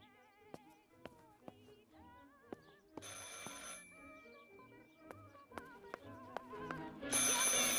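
An old-fashioned telephone rings in the video game Martha Is Dead, with repeated electronic ring tones sounding fairly quietly over a sparse game soundscape and no one talking.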